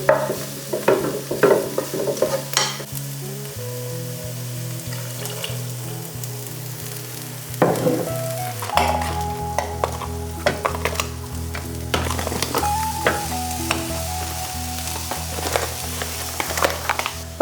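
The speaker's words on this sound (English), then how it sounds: "stirring those onions, stirring that protein" Onions and protein being stirred in a big pot with salt and rosemary, a steady close sizzle of frying broken by repeated scraping stir strokes, with a low tonal hum running underneath throughout.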